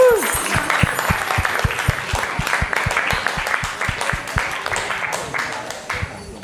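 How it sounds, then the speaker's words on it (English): A retreat group applauds itself after a day of chanting and caves, dense clapping with a strong rhythmic beat in unison, close and fairly loud, with voices and cheering mixed in throughout. "can you give yourselves a massive, massive round of applause, please?"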